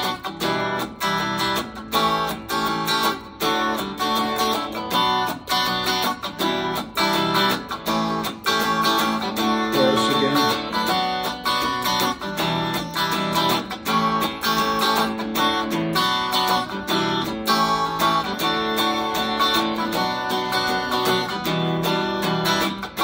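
Acoustic guitar strums a song's verse with a constantly moving hand, a dense, continuous rhythm of chords played alone and close.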